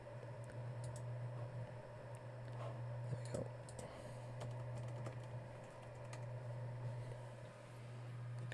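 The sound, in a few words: typing a password on a computer keyboard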